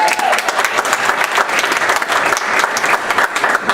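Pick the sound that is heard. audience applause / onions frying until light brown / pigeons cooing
audience applause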